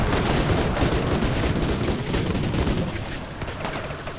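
Gunfire in the video game Rimworld crackles in a dense, rapid fusillade of overlapping shots, loud and continuous for a few seconds before easing slightly.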